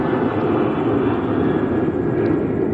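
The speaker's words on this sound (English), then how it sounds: "A third low elevation airplane" A low-flying airplane passes over a city area near a T-Mobile storefront, heard as a steady, loud, broad rumbling drone that holds throughout with no voices.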